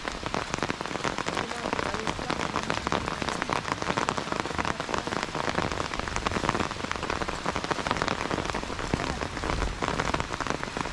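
Heavy rain pours steadily onto surfaces nearby on a mountain descent, a dense continuous patter with no voices or pauses.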